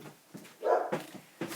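Dogs barking somewhere in a house, a few short muffled barks spread over a moment, moderate and slightly distant, as if behind a door, with no voices.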